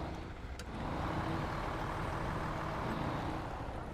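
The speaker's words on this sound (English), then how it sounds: "Actually, keep the engine running." International truck idling steadily in SnowRunner, a constant low engine drone with a rumbling bed that holds level throughout, close and unbroken, no voices over it.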